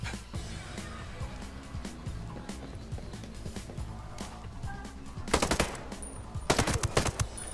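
Enemy gunfire in Ghost Recon Breakpoint: rapid bursts of automatic weapon shots crackle through a busy game soundscape, with louder, denser volleys near the end.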